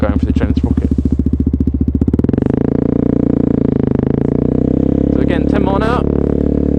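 A 125cc motorcycle engine rises from a rapid idle chatter into a loud, sustained revving drone as the bike is held up on a wheelie, close and steady, with someone talking over it.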